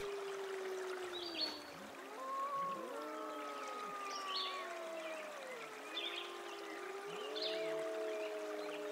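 Wolves howl together near a lake, several long overlapping rising and falling wails layered across the whole stretch, with faint bird calls above them and no one speaking.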